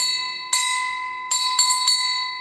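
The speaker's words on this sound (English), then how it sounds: "Sting that bell." A bell rings during a live stream, sounding several sharp bright strikes, each leaving a sustained ringing tone that overlaps the next, loud and close, with no talk.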